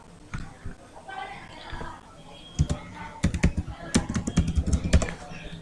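Fingers type rapidly on a computer keyboard while a registration form is filled in, a dense run of close clicks and taps that grows busier. A voice talks underneath.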